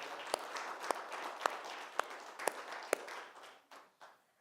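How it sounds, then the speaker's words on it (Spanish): A church congregation claps together in a steady, dense wash of applause with a few sharper hand strikes standing out, fading away toward the end. "Give it a round of applause."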